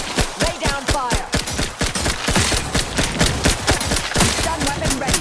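Rapid gunfire in the video game The Outer Worlds 2, a dense, loud burst of repeated shots with overlapping echoing impacts, continuous throughout and close up.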